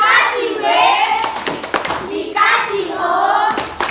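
Children in a classroom chant together and clap their hands in rhythmic bursts between the chanted phrases. The claps are close and crisp, with young voices dominating throughout.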